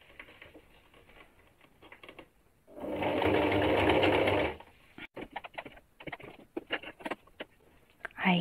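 A sewing machine stitches the hem of a pair of jeans in one fast, loud burst of about two seconds. Quieter scattered clicks and handling noises come before and after it.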